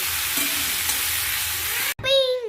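Cauliflower chorchori frying in a pan, with a steady broadband sizzle and stirring for about two seconds. It cuts off abruptly and is followed by a brief tonal sound.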